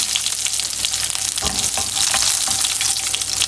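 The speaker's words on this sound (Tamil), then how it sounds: "பூண்டு நல்லா செவக்கிற வரைக்கும் ஃப்ரை பண்ணிக்கோங்க" Garlic fries in oil with a close, continuous crackling sizzle, and a brief stirring scrape breaks in midway through.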